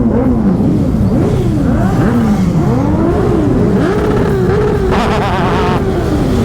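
Motorcycle engines whine and rev repeatedly at a season-opening ride in the Netherlands, one bike struggling to start then catching, pitch rising and falling in waves, loud and close, with a steady drone underneath throughout.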